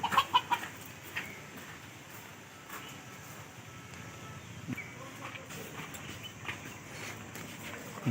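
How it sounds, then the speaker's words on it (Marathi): Hens clucking near a rooster outdoors by a hotel, a few close, sharp clucks at the start followed by scattered softer clucks over faint background noise. "कोंबड्यांमागं एक कोंबडा येडी कोंबडी"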